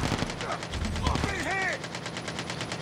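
Rapid automatic rifle fire in a squad-based shooter video game, a dense stream of close, loud shots with metallic ricochet whines, while a person speaks over it.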